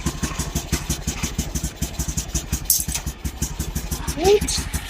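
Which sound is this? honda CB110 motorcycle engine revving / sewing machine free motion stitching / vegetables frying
honda CB110 motorcycle engine revving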